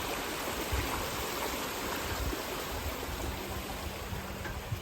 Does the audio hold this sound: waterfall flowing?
yes